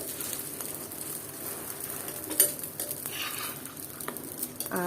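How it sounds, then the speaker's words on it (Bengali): A frozen paratha fries in a dry pan without oil, giving a faint, steady low sizzle, with a few soft clinks and scrapes of a utensil against the pan. "আর আমি এটাও আরেকটার পরোটা ভেজে নিলাম"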